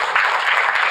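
An audience at an entrepreneur pitch event applauds, giving a brief, dense burst of steady clapping from many hands in a hall.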